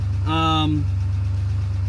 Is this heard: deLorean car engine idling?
yes